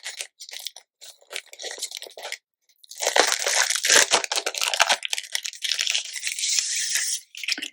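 Stiff cardstock fringe pieces from a craft kit handled close up, giving crisp crinkling and rustling in bursts, then a longer, denser stretch of papery crackle with brief pauses.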